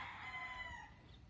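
A freshly bathed fighting rooster crows once, close and moderately loud, its strained call holding steady for over a second before tailing off.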